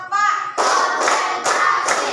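A group claps in a steady counted rhythm, with about four sharp, evenly spaced hand claps ringing out while voices call out the count.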